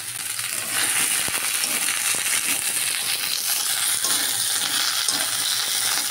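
Ginger, cumin, dried chili and tomato fry steadily in a pan, a continuous loud sizzle broken by a few light clinks and stirring scrapes.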